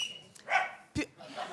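A person in a studio audience barks like a dog during a French television makeover show, a human voice imitating two or three short yaps amid crowd noise and talk.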